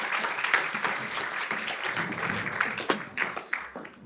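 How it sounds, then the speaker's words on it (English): Audience applause at a trilateral business forum, a steady wash of clapping from a hall full of people with a few sharper individual claps standing out near the end. "We can applaud them."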